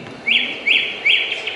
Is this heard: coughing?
no